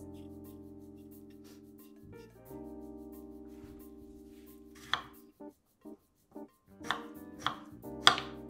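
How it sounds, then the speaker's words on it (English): A knife chopping daikon on a cutting board in a kitchen, sharp irregular knocks in a loose sequence over a steady tonal background hum. "Just slice and then chop 2 small pieces"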